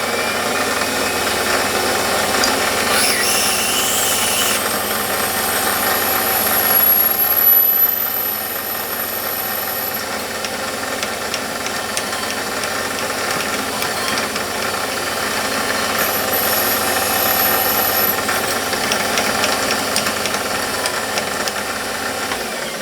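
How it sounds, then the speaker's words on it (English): A lathe drills a thick brass boss using a 4mm drill held in the tailstock, giving a steady close mechanical whir with faint high squeals from the cutting, no talk. "So I've got a 4mm drill, which is tap-in size for 2BA in the tailstock, and I'm just going to drill that"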